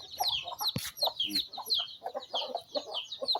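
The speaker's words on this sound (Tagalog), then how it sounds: "Yung mga sisiw, ang dami nila." Native chickens and a crowd of chicks cluck and peep continuously, with high chirping cheeps layered over lower hen clucks, close and fairly loud.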